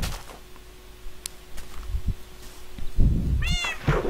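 In-game cat meowing in Minecraft, one short meow followed by a brief gap and then a clearer, rising meow near the end, against soft game sounds and a few clicks.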